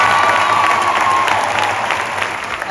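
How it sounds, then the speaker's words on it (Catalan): Crowd at a Barça celebration applauding the players and staff, loud dense clapping with scattered cheers echoing in a large open venue, a thin whistle-like tone briefly sounding over it. "Un fort aplaudiment, sisplau, per totes les persones."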